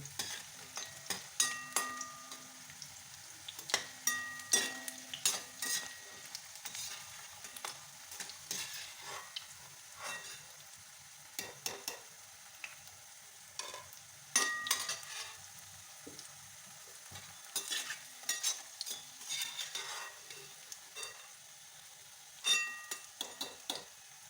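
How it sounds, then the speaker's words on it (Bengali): Banana stem (thor) peel chips frying in oil in a wok, a steady crackling sizzle with bursts of popping and occasional stirring clinks throughout, fairly quiet and close with no voices. "যেগুলো আমার ছিল সেগুলো আমি এবার ছেড়ে দিয়েছি কড়াইতে এগুলোও আমি ভেজে নেবো আগের মতো করে"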